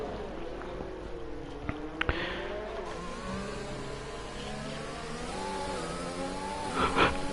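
F1 race car engine in an esports racing game at Abu Dhabi, a steady high revving whine that rises and falls as the car powers along, continuous and fairly loud.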